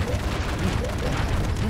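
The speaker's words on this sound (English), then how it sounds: "you can't hurt yourself with the airstrike" Loud, rumbling airstrike explosions in the video game Broforce roll together into a dense, continuous barrage of booms and blasts, with faint game voices mixed beneath.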